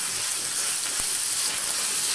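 Vegetables with tomato paste sizzle steadily in a pan for rassolnik, a dense continuous hiss of frying, with a faint soft knock from stirring partway through.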